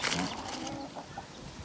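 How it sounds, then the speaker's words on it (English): A rooster clucks in short bursts near Uluru, with brief calls over a busy outdoor background and faint voices. "Rooster's back."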